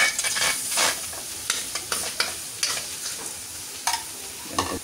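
Lemongrass frying in a hot, salted pan with a little oil gives a steady broadband sizzle, broken by several sharp stirring scrapes and clatters spread through the clip, with no voices.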